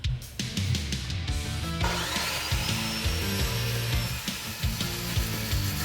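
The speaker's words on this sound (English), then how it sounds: "I love this little Evolution saw" A compact Evolution metal-cutting saw slices through steel angle iron in a workshop, a loud continuous grinding whine with a ringing edge that runs steadily, changes pitch partway through as the cut progresses, and carries no talk.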